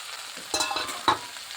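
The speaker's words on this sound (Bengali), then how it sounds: "এবার ভালোভাবে একটু নেড়ে ফেলি আলুটা" Potatoes with turmeric frying in a pan while being stirred, with a few short scraping strokes over a light sizzle, close and fairly quiet.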